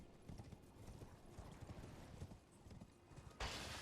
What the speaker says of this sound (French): le cheval qui peut aller dans les couloirs du château